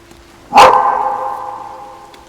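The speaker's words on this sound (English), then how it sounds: "my dog is very rowdy right now" A single loud, close dog bark rings out with a lingering tonal tail that fades over about a second and a half in an otherwise quiet room.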